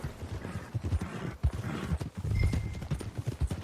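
Horse hooves clip-clop steadily on a path in Red Dead Redemption 2, a moderately loud, uneven rhythm of close hoofbeats running through the whole stretch, with a brief whinny-like tone partway and no talk.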